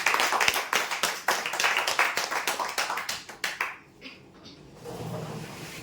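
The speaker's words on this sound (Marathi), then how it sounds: "जोरदार टाळ्या" A crowd applauds at a prize-draw ceremony, with rapid, loud hand claps that thin out and fade into quiet room noise after a few seconds.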